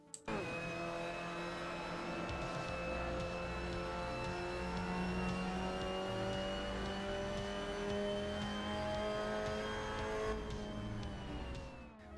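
A Mazda MX-5 Cup car laps the Hockenheimring in the Assetto Corsa racing game, its engine droning steadily through the gears with rising and falling pitch and occasional tire squeal, heard alone without talk.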